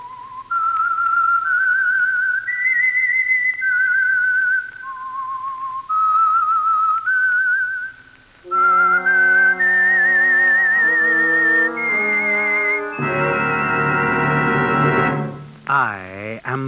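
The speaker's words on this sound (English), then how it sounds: "That whistle is your signal for the Signal Oil Program" A lone whistler carries the eerie melodic theme of the Whistler radio mystery show, a clear, steady tune of sustained notes moving up and down, later joined by a swelling orchestral accompaniment that ends in a sweeping flourish.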